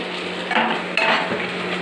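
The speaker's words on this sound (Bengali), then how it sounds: "এবার ভালো করে কষিয়ে নেবে যতক্ষণ না তেল ছাড়ছে" Ground spice paste with salt and turmeric fries in oil after browned onions for a mutton curry, a close, loud, steady sizzle with a couple of stirring scrapes against the pan.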